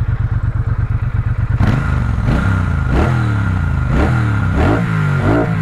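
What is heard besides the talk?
Triumph Bonneville T120 motorcycle engine revving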